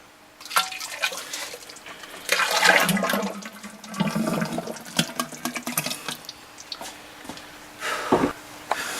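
Liquid plaster pours and splashes into a clay sculpture mold, a wet, uneven gushing and dribbling with bursts of slapping and pattering, fairly close and without talk.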